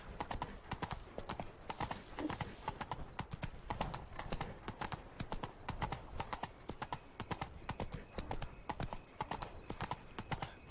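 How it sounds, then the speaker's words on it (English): Horse hooves clip-clop steadily at a riding pace in The Witcher 3: Blood and Wine, a continuous rhythmic trot lasting the whole stretch with a brief whinny and faint game ambience underneath. "While I'm riding my horse,"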